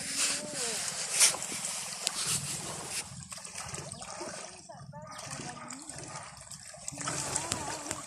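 Sea water washes and splashes at the shore of a beach, a steady watery rush with voices talking over it.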